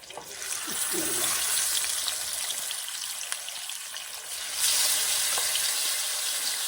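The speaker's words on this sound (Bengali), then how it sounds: "আমার তেল গরম হয়ে গেছে আমি মাছ দিয়ে দিতেছি" Marinated small sarpunti fish sizzling as they fry in hot oil in a home kitchen, a continuous loud crackling hiss that swells briefly midway, close, with no talk.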